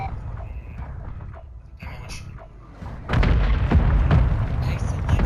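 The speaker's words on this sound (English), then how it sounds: "Mortar strike on the way." Mortar strike explosions in the battle royale game COD Warzone 2 on Al Mazrah, starting as scattered distant thuds and then turning into a loud, sustained rumbling barrage of blasts in the last couple of seconds.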